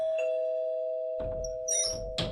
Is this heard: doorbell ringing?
yes